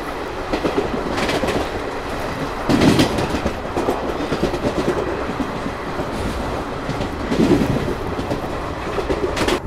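Nagpur–Amritsar AC Express train running on rails, a loud steady rumble with rhythmic clickety-clack of wheels over rail joints and a few heavier thumps, close and continuous with no talk.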